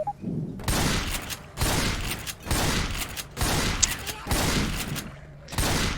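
A shotgun fires repeatedly in Left 4 Dead 2, with about six loud, close blasts, each followed by a brief pumping clatter and short gaps between shots.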